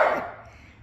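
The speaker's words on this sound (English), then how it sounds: "I think he's barking at the trash man." A dog gives a single short bark, close and fairly sharp, fading quickly into quiet room tone.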